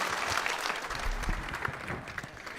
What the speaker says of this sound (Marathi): जागे असताल तर टाळ्या वाजवा